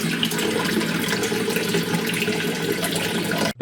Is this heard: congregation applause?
no